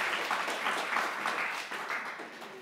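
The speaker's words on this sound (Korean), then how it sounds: "박수를 한번 보내야 합니다" A congregation applauds during a church service, a steady wash of many hands clapping at moderate volume that carries on evenly and fades slightly toward the end.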